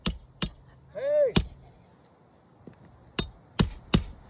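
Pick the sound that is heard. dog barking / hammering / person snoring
hammering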